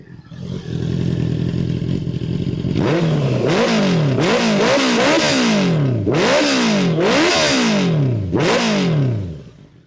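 Honda CBR650R E-Clutch with a BlackWidow underbelly exhaust, loud and close, idling briefly before a series of sharp throttle blips that rise and fall repeatedly, each rev swelling and dropping back in a steady rhythm.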